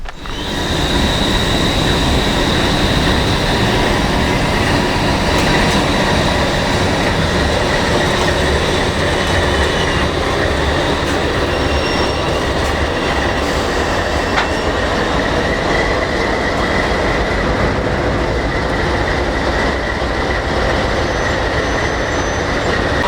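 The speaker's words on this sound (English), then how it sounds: "that's our grain train that has just now pulled to a stop." A heavy Norfolk Southern grain train rumbles steadily nearby on the Pittsburgh Line at Crescent, Pennsylvania, wheels grinding and clanking on the rails with faint squeals as it pulls to a stop, the noise holding loud and continuous throughout.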